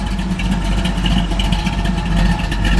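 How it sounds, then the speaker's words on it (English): Small block V8 in a 1968 Chevrolet Camaro Z28 with a choppy cam, idling close by, a lumpy uneven rumble with each cylinder firing audibly in a loping rhythm. "It idles, so you hear every cylinder pop off."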